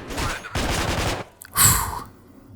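Bursts of assault rifle fire in the Manhunt video game, two long rattling volleys followed by a short loud burst, close and punchy with brief gaps between.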